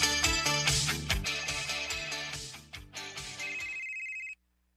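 A mobile phone ringtone plays a bright, chiming melody with a steady beat, fairly quiet and alone, ending with a held tone before cutting off abruptly.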